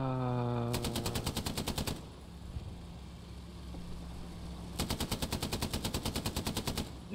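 Machine gun fire in the World War II shooter Hell Let Loose, with two sustained rapid bursts of rattling shots separated by a lull of engine-like rumble.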